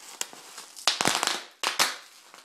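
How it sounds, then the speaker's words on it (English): Large-bubble plastic bubble wrap popping indoors: a dozen or so sharp, loud cracks in irregular bursts, some single and some in quick clusters, with no voices. "this bubble wrap has even bigger bubbles"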